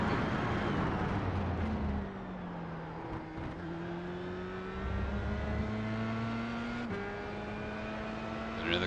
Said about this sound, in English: Another car catching up from behind.